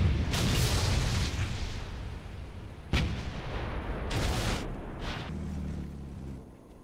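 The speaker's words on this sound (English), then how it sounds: "Artillery strike is ready." Artillery strike in the WWII strategy game Blitzkrieg 3: heavy booming shell blasts and rumbling impacts, several loud bursts with a sharp hit near three seconds and more around four to five seconds, then fading rumble.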